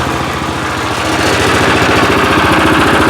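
A Weima walk-behind tractor engine idles loudly and close by, a steady chugging rumble with even rapid pulses throughout.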